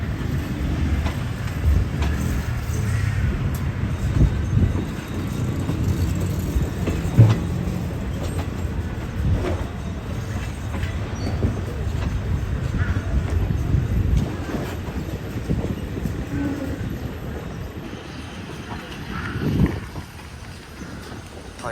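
Ordinary passenger train 260, hauled by GEK 4026 locomotive, rolls at Thonburi railway station in Bangkok, with a continuous rumbling diesel drone, clanks and wheel knocks recurring throughout, fairly close and loud.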